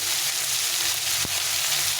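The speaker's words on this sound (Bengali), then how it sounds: "এখানে দেখো টমেটোটা অনেকটা ভাজা ভাজা হয়ে গেছে।" Tomatoes fry in a pan for a fish curry, a dense, even sizzle close by with one brief tap partway through and no voices.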